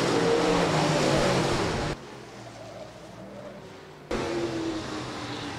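USRA stock cars race around a track, engines roaring loud and steady as a pack, with an abrupt drop to a duller, quieter passage before the full engine roar returns.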